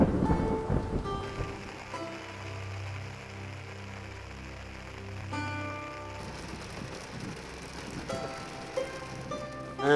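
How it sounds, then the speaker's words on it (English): Light rain patters at a lakeside in Kenya, a soft steady hiss with scattered drops and a low rumbling hum underneath, with no voices. "As we are talking now, you can see some drizzling."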